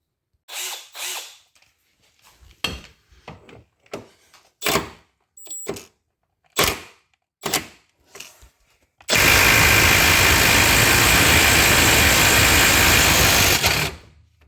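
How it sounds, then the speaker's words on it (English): Tools remove subframe fasteners on a GE8 Honda Fit during a steering rack job. Scattered metallic clicks and taps come first, then a loud, steady power-tool whir runs for about five seconds before it stops. "we can begin removing these fasteners, which will allow us to lower the subframe"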